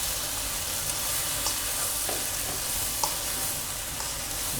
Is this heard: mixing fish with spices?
yes